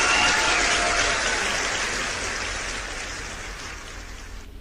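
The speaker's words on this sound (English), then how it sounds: "Can we give her a round of applause?" A summit audience applauds for a poet, a dense, even wash of clapping that starts full and slowly fades over nearly five seconds before cutting off.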